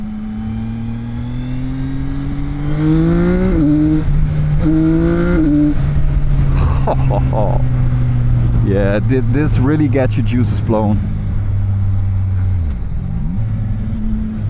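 A CFMOTO 675NK motorcycle's engine revs and drones loudly and close, its pitch rising and falling through several throttle blips, while someone talks over it.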